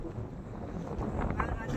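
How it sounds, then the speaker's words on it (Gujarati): Strong wind gusts buffeting the microphone outdoors beside a parked car near waterlogged fields after rain, a steady broadband roar with slight swells throughout. "પવનનો અવાજ આવતો છે બહુ પવન છે અહીંયા"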